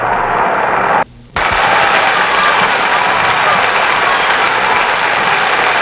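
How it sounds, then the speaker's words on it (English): Dense, steady applause from an opera audience at the Metropolitan Opera House in New York after a 1945 broadcast performance of Fidelio, loud and continuous apart from one brief dropout near the start. "The extra enthusiasm and applause you hear from the audience"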